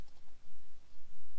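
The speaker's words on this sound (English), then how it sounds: "so I'll just double click on that" A computer mouse button double-clicked while opening a Skype test service, giving short, quiet, close clicks over a soft room background.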